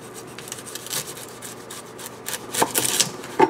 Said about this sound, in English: we're just going to cut this side off here